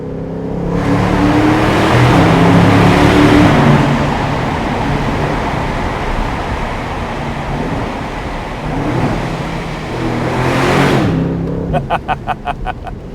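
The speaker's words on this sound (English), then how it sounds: "it sure makes some nice rumbly V8 noises" A 2024 Aston Martin DB12 Volante's 671-horsepower V8 rumbles and swells while driving, loud and steady from inside the car with rising revs, easing off near the end into a faint rapid ticking.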